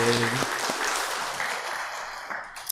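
Church congregation applauding after a special song during a Korean service, a burst of clapping that gradually thins and fades, with a voice and a few sharp sounds at the start.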